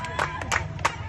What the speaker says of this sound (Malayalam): കയ്യടി അടിക്ക എല്ലാരും.